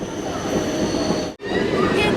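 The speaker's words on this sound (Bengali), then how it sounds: "অসাধারণ সিন ভাবা যায় না এরকম গ্রামের ভেতর দিয়ে ট্রেন লাইন যাচ্ছে" Train running through village countryside, a steady loud rolling rumble heard from on board, with a brief sharp dropout partway through before the noise resumes.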